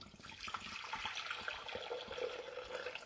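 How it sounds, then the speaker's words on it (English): Water poured steadily into a mixing bowl while making individual ginger puddings, a continuous close hiss and splash with no talking. "Now I'm going to put about 400 grams of water into here."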